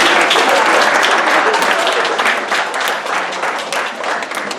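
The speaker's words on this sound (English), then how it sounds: "So give them a round of applause." Audience applause fills a year-end party, dense and sustained clapping from a crowd that stays loud throughout before easing slightly near the end.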